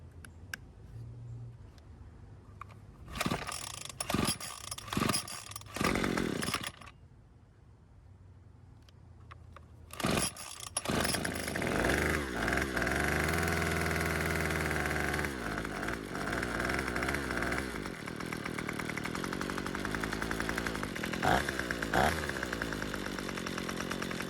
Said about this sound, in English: the next string trimmer is a Craftsman WC210, and this one will start just like the first two